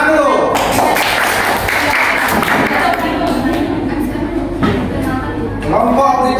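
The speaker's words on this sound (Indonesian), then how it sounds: "Oke, tepuk tangan dulu." A classroom of children applauding during a school lesson, with a dense, sustained patter of clapping that runs the whole stretch and voices mixed in.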